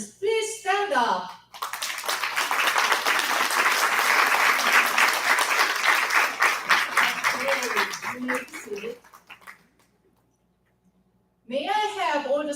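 Loud, sustained applause from a big audience at a corporate awards ceremony, bracketed by a presenter speaking at the start and end, with a quiet gap as the clapping dies away.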